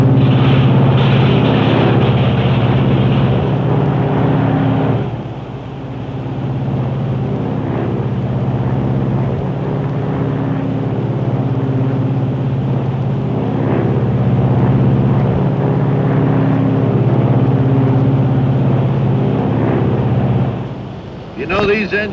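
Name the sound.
Lockheed Super Constellation propeller engine number one unfeathering and running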